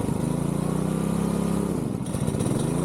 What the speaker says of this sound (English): So I'll try a bit of choke to get it started.